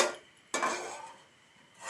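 A metal lid is set onto a cooking pot of vegetable biryani over a high gas flame, making a single near clank that rings briefly. A softer clink of metal follows at the end.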